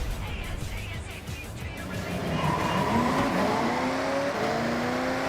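Ford F450 truck in the video game Forza Horizon 6, engine revving up with rising pitch and tire noise, growing louder and steadier over about five seconds, no talking.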